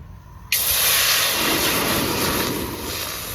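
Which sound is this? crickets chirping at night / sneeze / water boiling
water boiling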